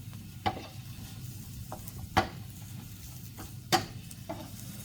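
Vegetables for spring rolls sauté in a pan on very low heat, a soft steady sizzle broken by several sharp knocks and scrapes from a wooden spoon stirring, close and without talk.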